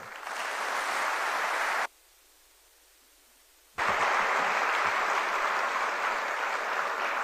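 Audience at an IIT Kanpur industry-academia event bursts into loud, sustained applause after the chief guest's address, breaking off for a couple of seconds before a second strong round of clapping resumes.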